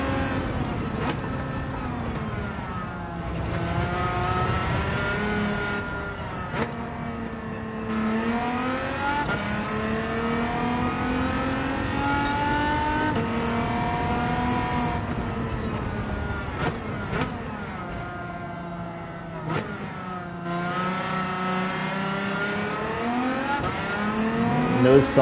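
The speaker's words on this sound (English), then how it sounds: "I might like the V6 sound more than the V8 once we're in the other car." Engine of the Amuse 380RS race car in Gran Turismo 7, revving hard through repeated gear changes with rising pitch sweeps and brief drops between shifts, loud and continuous.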